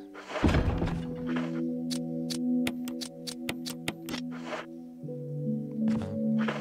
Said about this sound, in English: Reload that.